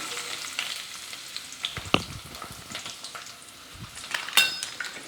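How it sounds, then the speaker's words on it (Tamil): Sliced large onions fry in hot oil with cinnamon, cloves and bay leaf, giving a soft steady sizzle broken by occasional stirring scrapes and a few sharp utensil clinks, with no talking. "வெங்காயம் நல்லா பொரியட்டும்."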